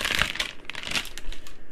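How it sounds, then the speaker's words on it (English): A plastic anti-static bag holding a laptop battery is pulled open up close, giving a run of crisp crinkling and rustling bursts with no talking. "the battery comes in a static bag, and we'll open up this plastic bag"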